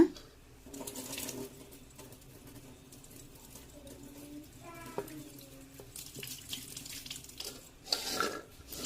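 Crushed turkey berries being washed in water, with faint splashing and trickling in a sink or bowl, quiet and close, with light clinks of a vessel and brief speech at moments.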